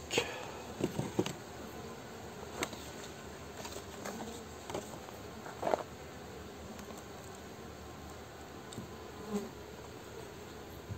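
Honeybees buzz in a soft, continuous drone close by at a populous hive, with a few louder buzzes as individual bees pass, and occasional light knocks.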